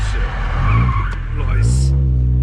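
Car tires skid and squeal loudly and close by, a continuous screech with engine noise beneath, while people talk over it.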